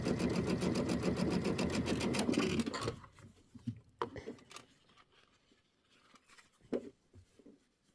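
Sewing machine stitching quilt blocks for traditional pieced four-patch and pinwheel designs, running steadily and loud for about three seconds, then stopping, followed by quieter handling clicks and rustles.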